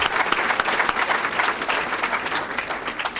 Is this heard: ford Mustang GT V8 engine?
no